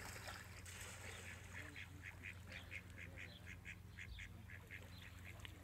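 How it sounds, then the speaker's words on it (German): Water birds near a swan on a lake call in a rapid series of quacking, honking notes, moderately close over a steady outdoor background hum. "Es schwimmt gerade ein wunderbarer Schwan vorbei. Vögel in alle Richtungen."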